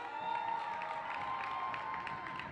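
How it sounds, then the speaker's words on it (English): A women's college basketball crowd at a Montgomery College Raptors game applauds and cheers as players are introduced, a distant, roomy wash of clapping and voices beneath a steady tone. "let's give them a big round of applause"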